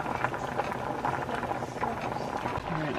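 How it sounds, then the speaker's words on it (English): Chopped, peeled sweet potatoes boil in a pot of water, giving a steady bubbling, gurgling roil up close, with faint background noise and no clear speech. "I boil them till they're super soft"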